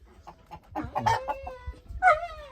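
A rooster crows loudly and close by at a farmyard chicken coop, with scattered hen clucks and rustling leading up to the crow.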